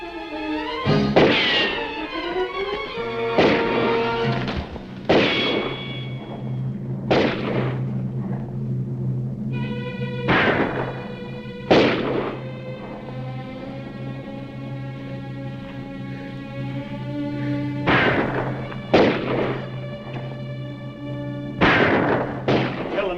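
Gunshots crack out in a 1950 western film shootout, a dozen or so loud, sharp reports spaced irregularly several seconds apart over a sustained low musical drone.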